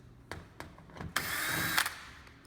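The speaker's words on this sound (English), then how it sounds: "using a 1/4 inch driver. Undo all these screws" A 1/4 inch power driver undoes screws from a drain pan panel: a few short clicks and bursts, then one sustained whirring run of about a second, close and fairly quiet, with no talk.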